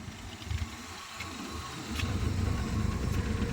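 A manual car's engine runs in reverse gear while backing up slowly, a low, fairly faint rumbling drone that grows slightly louder and rougher partway through, with no voices.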